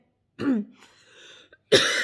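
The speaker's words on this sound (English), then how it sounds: "As you see, I'm having a problem with coughing." Two bursts of coughing or throat clearing, separated by a brief quieter rasp, close and fairly loud.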